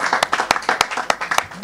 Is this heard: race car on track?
no